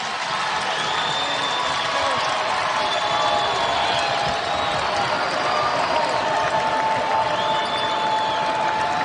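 A large crowd at a women's college basketball game, Iowa, roars and claps continuously, with whistles and cheers rising over a dense, steady wall of noise.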